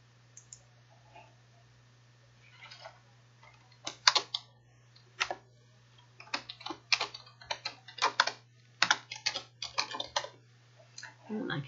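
Computer keyboard typing, close and fairly quiet: scattered single key clicks at first, then quicker irregular runs of keystrokes over a faint steady hum.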